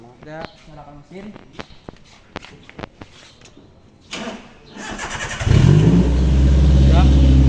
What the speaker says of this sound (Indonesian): Kita nyalakan mesin.